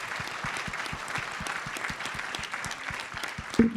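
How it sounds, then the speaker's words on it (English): An audience applauds the AAPC pioneers at a general session, steady dense clapping throughout with a slightly louder burst near the end. "let's have a round of applause for our AAPC pioneers."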